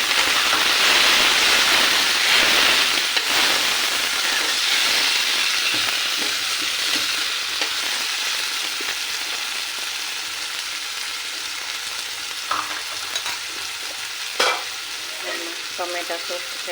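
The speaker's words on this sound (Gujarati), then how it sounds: "લગભગ આપણી ડુંગળી થઈ ગઈ છે, તો આપણે 1 વાટકી ટામેટાં નાખી દઈએ" Chopped tomatoes go into frying onions in a pan, giving a loud, close, steady sizzle that slowly eases, with scraping stir strokes and small clinks, no speech.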